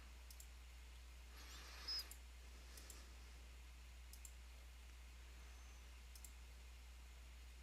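Computer mouse clicks while drawing polylines in AutoCAD 2014, faint sharp single clicks spaced a second or two apart over a steady low electrical hum.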